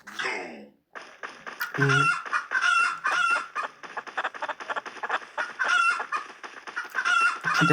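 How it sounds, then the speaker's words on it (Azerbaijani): Chickens cluck and squawk loudly and continuously while being caught, with agitated bursts of flapping and scuffling close by and one brief crowing-like cry. "Toyuq tutmaq."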